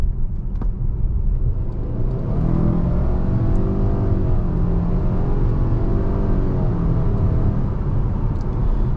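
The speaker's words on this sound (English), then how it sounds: "I'll mash the throttle and see how it reacts, and we'll hopefully get it up to 60" A 2022 Subaru Ascent Touring accelerating at full throttle from about 25 mph, engine drone rising steadily in pitch with a loud continuous cabin rumble, no talking.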